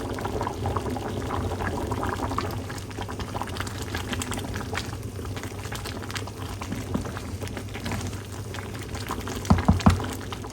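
Eggs boil in a pot of water in a home kitchen, a steady bubbling simmer that continues throughout, with a few louder knocks near the end.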